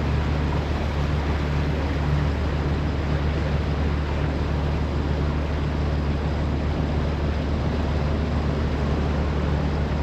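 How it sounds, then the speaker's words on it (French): Steady low drone of a sailboat's engine running smoothly on open water, continuous and unbroken for the whole stretch with constant loudness and faint wind and water noise around it. "mon moteur tourne super"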